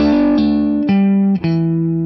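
A double-stop lick on an electric guitar run through effects and gain, a few ringing two-note chords sliding into one another over about two seconds, loud and close with no talking.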